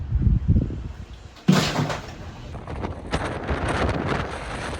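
Strong gusting wind from Hurricane Milton in Sarasota, Florida, roaring against the microphone in heavy buffets, with a sudden loud surge partway through and continued rushing gusts afterward, no talk.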